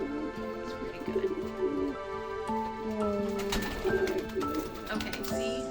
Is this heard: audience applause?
no